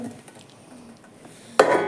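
A metal pot clatters loudly near the end after a quiet stretch of faint background noise, a short burst of handling and knocking.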